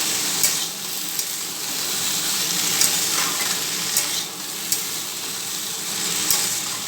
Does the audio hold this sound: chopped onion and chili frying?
yes